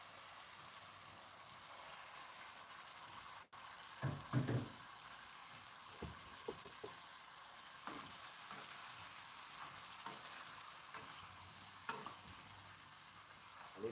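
Ackee goes into saltfish already frying in a pan: a steady sizzle throughout, with soft stirring and scraping clatters, a sharp click, and a few louder bursts as the fruit hits the hot pan.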